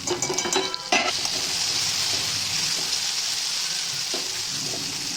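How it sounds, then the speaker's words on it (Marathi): Green chillies, split in two, sizzle and fry in a pan with garlic for rustic village-style baingan bharta, a steady close hiss with a few scraping stirs and utensil clinks near the start. "आणि हिरवी मिरची पण 2 तुकडे करून टाकायचे. ते पण चांगले वाफायचे."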